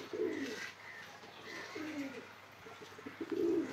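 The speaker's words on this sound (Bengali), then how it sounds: "এই যে কবুতরটি এখানে বসলো, এটা আশা কবুতর" Pigeons coo in a series of soft, low, throaty calls at a home loft, repeating every second or so at close range with faint background noise and no talk.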